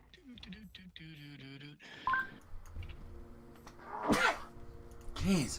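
A person sneezes twice amid beeping tones and faint talk, the sharp bursts standing out over a quiet, cluttered background.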